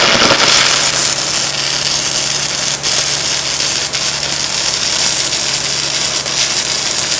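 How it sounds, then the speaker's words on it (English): Steady hiss and crackle of a fillet weld being laid with a Yeswelder Firstess DP200 multiprocess welder, running continuously at close range with a few brief pops and no talking. "I'm going to lay a fillet weld in it."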